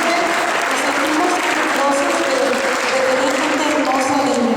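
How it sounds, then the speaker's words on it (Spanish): Audience applause at an evening of stories and legends honoring a chronicler of Nazas, steady and dense throughout, with voices mixed in over the clapping. "aquí un aplauso"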